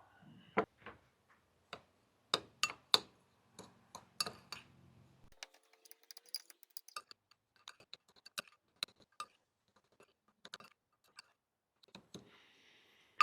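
Brown sugar, black pepper and chili flakes are stirred together in a bowl for candied bacon: a quiet run of irregular sharp clicks and taps of a utensil against the dish, close and faint, with no talking.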